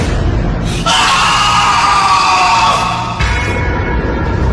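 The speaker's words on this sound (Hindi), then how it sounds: "एक चीख जंगल में गूंजी" A loud, sustained scream rings out for a few seconds as a ghost-story effect set in a jungle, with a reverberant, echoing tail over a low background rumble.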